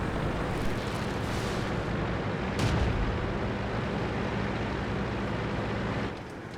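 A tank in the World of Tanks video game fires its gun mid-clip, a loud boom rising out of a steady heavy engine rumble that continues until it drops off near the end.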